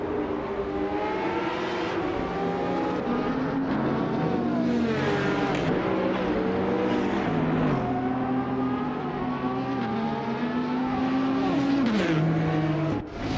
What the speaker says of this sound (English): Amy is currently in 8th place with a 1998 Lotus Tiga Esprit